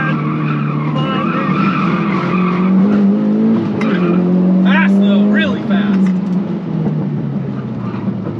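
A Mitsubishi Evo is pushed hard through corners on a race track, its engine droning and shifting pitch while the tyres scrub and skid. A voice talks over it.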